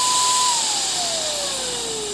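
The motor of a Batavia electric HVLP spray gun runs with a loud, steady whine whose pitch slides gradually lower as it settles, with no voices.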